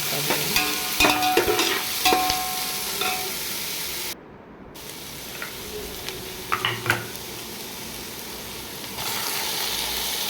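Tomatoes sautéing in a pan with onion, curry leaves and green chilli for a goat-head curry, a steady sizzle with scraping stir strokes and a brief dropout midway, fairly close.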